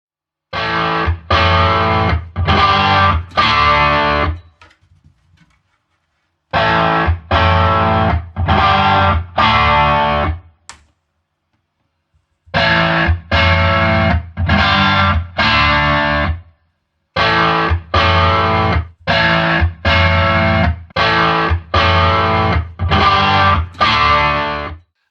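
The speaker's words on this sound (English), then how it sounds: "into a fully cranked tube power amp to produce some overtones by power amp distortion" Loud distorted electric guitar chords through a fully cranked tube power amp, strummed in rhythmic bursts, with a couple of pauses between phrases; thick, saturated overdriven tone throughout.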